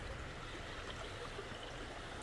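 Water flows in Zurich near a gurdwara, a faint, even rushing wash that runs steadily throughout with no breaks and no voices.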